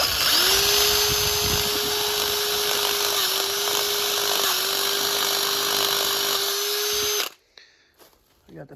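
A power drill whines steadily at close range for about seven seconds, pitch holding level, then cuts off, leaving a few quiet clicks and handling sounds.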